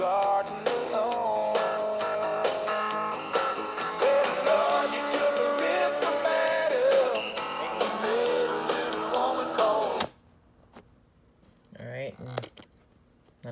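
A pop song with a female vocal played back through minidisc and cassette personal media players, steady and full for about ten seconds before stopping abruptly into near silence with a few faint handling sounds.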